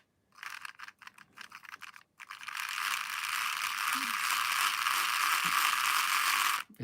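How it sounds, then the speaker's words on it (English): A small second-hand 00 gauge model train motor runs on current, a faint, steady high-pitched whir after a few brief stuttering starts, continuing for several seconds before cutting off. "it's a very smooth running motor, I have to say"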